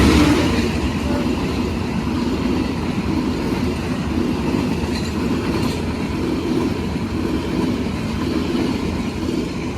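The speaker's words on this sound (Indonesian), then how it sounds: "ada kereta yang akan lewat nih" Mutiara Timur passenger train rumbling past at Gunung Gangsir in Indonesia, a steady close roar of wheels and cars rolling continuously for the whole stretch, with a faint click near the middle.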